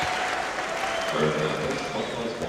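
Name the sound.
basketball arena crowd cheering a player to the bench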